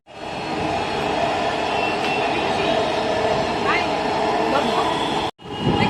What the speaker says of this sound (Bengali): এই যে মেট্রো রেল যাওয়া আসা করছে কিছুক্ষণ পর পরই।